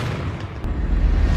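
A Black King sniper rifle shot in an action film, a deep rumbling low boom that swells and lingers rather than a crisp crack.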